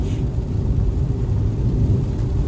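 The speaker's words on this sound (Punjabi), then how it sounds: "ਫੁੱਲ ਤੇਜ਼ بارش ਹੋ ਗਈ ਹੈ ਜੀ" Heavy rain pours down on a journey from Abohar to Chandigarh, a dense, loud, continuous low rumbling wash with no breaks.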